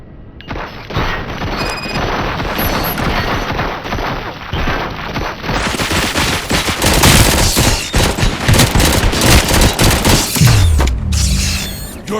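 Sustained gunfire in Robocop: Rogue City, loud rapid machine-gun bursts and booming shots layered with mechanical clatter, running continuously at close range.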